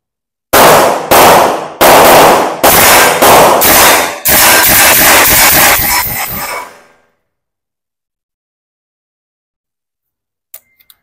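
Battle Arms airsoft gun fired outdoors after rain in a rapid burst of loud, sharp cracks, roughly eight to ten shots over about six seconds, then silence with a couple of faint clicks near the end.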